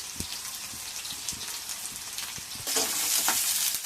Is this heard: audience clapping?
no